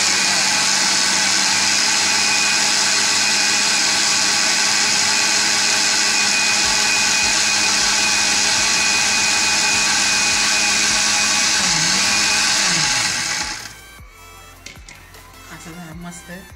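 A mixer grinder whirs loudly and steadily, grinding cooled masala for a paneer gravy. The motor then winds down and stops near the end, leaving quieter handling sounds.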